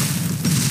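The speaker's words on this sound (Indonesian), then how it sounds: "Ada yang meledak 3 kali." A grenade blast in the shooter game Free Fire: a short, loud, dense boom with a low rumble, heard alone.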